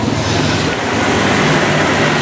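An electric fan blows steadily to dry steamed flour, giving a loud, even whooshing rush with a faint low hum underneath and no breaks.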